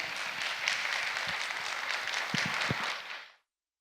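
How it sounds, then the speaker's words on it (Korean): An audience applauds steadily after a lecture on natural philosophy at a cultural festival, a dense, even wash of clapping that fades out abruptly near the end. "다시 한번 큰 박수 부탁드립니다"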